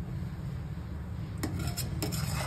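Kulfi milk mixture thickened with rice being stirred in a pot, a steady close scraping and rubbing of a spoon against the metal, with a few sharper clinks of utensil on pan partway through.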